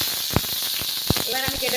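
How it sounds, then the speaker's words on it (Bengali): Ginger and turmeric fry in oil for a vegetarian chhana curry, giving a continuous bright hiss dotted with a few sharp crackles, with a voice heard over it. "আর 1 চামচ মতো আদা দিয়েছি, দিয়ে তেলে ভেজে নিচ্ছি।"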